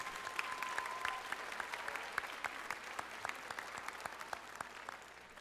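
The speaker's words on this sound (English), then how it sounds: "I'd like to give them a nice round of applause for the work they do every day" Audience applause for teaching staff at a school awards night, a steady, dense patter of many hands clapping in a hall, fairly distant and even throughout.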